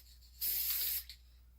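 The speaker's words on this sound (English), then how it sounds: "We're going to spray this across my hand." Chrome spray paint aerosol sprayed across the back of a hand in one steady half-second burst of bright hiss, close and alone, followed by a tiny puff.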